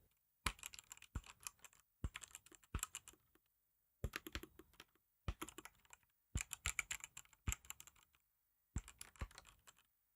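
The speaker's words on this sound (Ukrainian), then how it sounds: "при роботі з клавіатурою ви чуєте виключно натискання на клавіші" Sharp, clicky mechanical keyboard key presses come in bursts of rapid typing, separated by brief pauses, close and clear with no voices.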